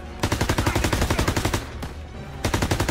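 Machine gun fire in the Call of Duty WWII video game, a loud, close, rapid stream of evenly spaced shots in two long bursts with a brief pause between them, with no speech.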